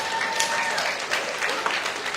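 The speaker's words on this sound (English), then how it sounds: "Give yourselves another round of applause." Graduates clap during a University of the West Indies graduation ceremony, a brief, continuous burst of crowd applause with faint voices mixed in.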